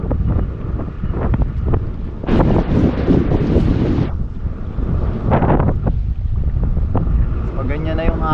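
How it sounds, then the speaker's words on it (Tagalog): Strong wind buffets the microphone at sea, with a loud roaring gust in the middle and a boat's rumble underneath, brief voices heard faintly. "Pag ganyan na yung hangin."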